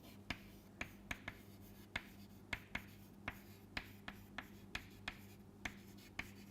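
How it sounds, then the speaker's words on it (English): Chalk or marker tapping and scraping across a board in a quiet lecture room, about a dozen sharp strokes in an irregular rhythm over a steady low hum, with no talking. "let me write it here"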